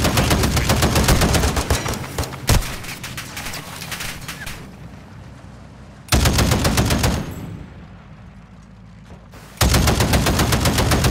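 Turret gunfire in the video game Call of Duty: Modern Warfare II comes as loud, rapid machine-gun bursts. Three long strings of shots are broken by short pauses filled with quieter background noise.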